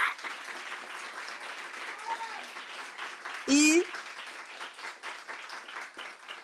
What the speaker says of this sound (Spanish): debemos de darle otro aplauso